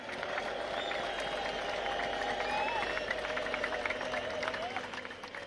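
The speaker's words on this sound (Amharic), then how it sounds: "እስቲ እልልታ፣ ጭብጨባ፣ ሆታ።" A church congregation applauds and cheers, with high wavering ululation trills rising over a broad wash of clapping and crowd noise that fades slightly at the end.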